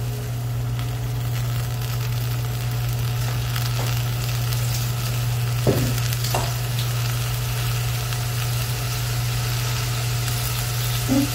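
Chopped kale and salt frying in a pan give a steady close sizzle, with a constant low hum beneath and a couple of brief clinks partway through, no voices.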